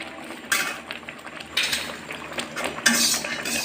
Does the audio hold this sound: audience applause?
no